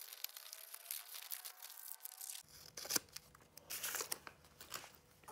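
Scissors cut out a paper squishy in a quiet room, giving close snipping and crisp paper crinkles in an uneven rhythm.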